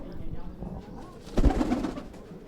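Pigeons coo inside a loft, a soft low burbling call rising briefly to a louder swell midway through, heard close up with people talking over it.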